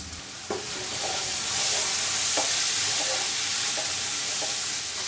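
Onion, garlic and ginger paste cooks in a pan with steady sizzling and frying hiss, punctuated by a few scraping stirs of a spoon against the pan, close and continuous throughout.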